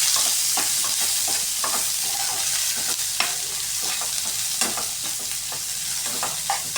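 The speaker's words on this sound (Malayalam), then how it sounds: "നമ്മൾ ആദ്യം സവാള ഇട്ടൊന്ന് അല്പം ഒന്ന് വഴറ്റിയെടുക്കും" Onions and green chillies sautéing together in a pan: a continuous loud close sizzle broken by repeated stirring scrapes and light clicks, with no talk.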